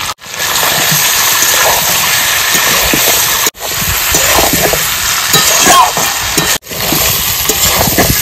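Mutton curry with fried potato pieces and a green chilli is stirred and sautéed in a pot, a steady loud sizzle with scraping stir strokes, broken by brief pauses.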